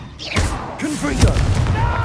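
A Confringo fire spell bursts in Hogwarts Legacy combat, landing as a sharp mid-clip boom that sits amid voiced character dialogue and other spell effects.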